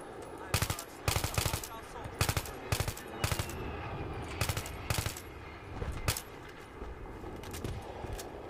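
Bursts of automatic gunfire in Battlefield 3, a tank battle on ice, rattle out in short volleys spread through the stretch, loud and close over a steady rumble of battlefield noise.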